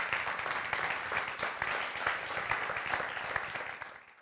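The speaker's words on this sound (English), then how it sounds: "Big round of applause for Mila." An audience at a panel event on AI data work gives sustained applause, an even wash of many hands clapping at moderate distance with no talk over it.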